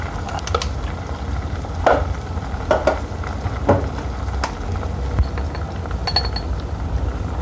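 Onions dropped into a hot pan sizzle steadily in a home curry kitchen, with a spoon clinking and scraping against the pan in a few sharp strokes amid the continuous frying hiss.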